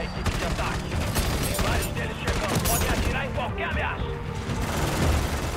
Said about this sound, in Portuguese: Deixar a torreta aqui fazendo o furdunço